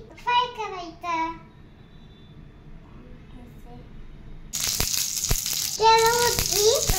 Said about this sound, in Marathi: ही सँडविच त्यावरती फ्राय करायचं